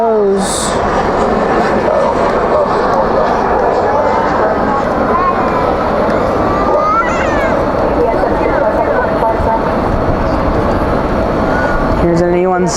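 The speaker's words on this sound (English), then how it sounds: "Here's an E175 touching down here on 18 right" An Embraer E175 airliner touches down on runway 18R at DFW at night, a constant heavy engine roar with a deep low rumble, while people talk over it.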